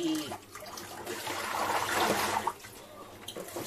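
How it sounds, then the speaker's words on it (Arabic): Water running steadily while a table is washed during a morning home routine, a close continuous hissing splash that swells in the middle and eases off toward the end, with no voices. "هنا دابا غادي نغسل هاد الطاوله"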